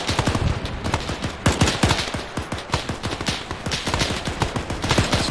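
Gunfire in the Arma 3 video game, in an army-men civil war battle mod, comes as dense overlapping automatic bursts and rapid single shots, loud and continuous throughout.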